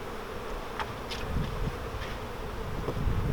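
Honey bees buzz around an open single-brood-box nuc during a hive inspection, a steady swarming drone with individual bees whizzing close past now and then.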